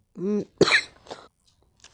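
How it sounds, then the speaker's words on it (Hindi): A burst of harsh coughing, two or three rough hacks close to the mic, right after a short voiced sound, then quiet with a faint breath at the end. "So that is why I started coughing."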